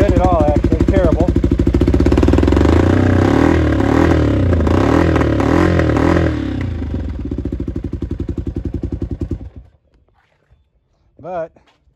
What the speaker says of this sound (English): I can get it to start and get it to idle okay, but it's still not very good